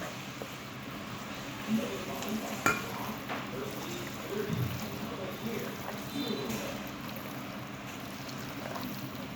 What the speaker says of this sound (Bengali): মাংস এবং মশলা একসাথে মেরিনেট করা হচ্ছে।